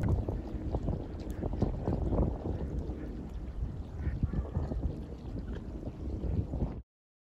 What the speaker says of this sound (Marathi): बोट बघा येते हार्बर जवळ.